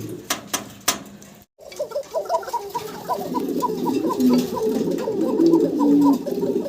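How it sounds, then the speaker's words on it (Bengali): White Kokka pigeons, a male and female, coo in a rolling, bubbling series that builds and grows louder, close at hand, after a few sharp taps at the start. "ককার ডাক শোনাইলাম আপনাদেরকে"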